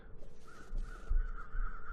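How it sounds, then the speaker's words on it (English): Crows caw repeatedly in a wintry outdoor scene of the survival game The Long Dark, a steady series of hoarse calls at moderate distance over a quiet background, with no one talking. "Those crows really dragged us off course."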